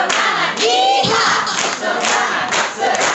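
A school audience at a Medan-area junior high (SMP Negeri 1 Silima Pungga Pungga) joins in a rhythmic spirit clap and loud group cheer, voices shouting together in bursts with a brief dip midway.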